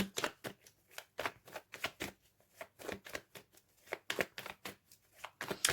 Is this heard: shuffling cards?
yes